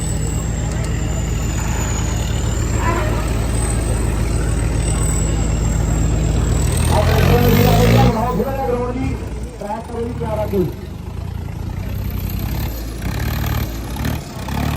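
A tractor engine runs loud and close at the Rurki village fair, giving a steady low rumbling drone that eases slightly near the end, with voices over it.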